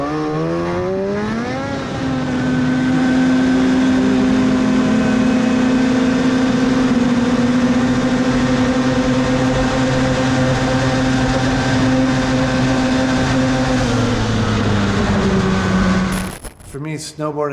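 A turbocharged two-stroke, two-cylinder 850 engine on a snow machine winds up in one long, loud, sustained pull, its pitch rising at first and then holding a steady high drone before falling away near the end.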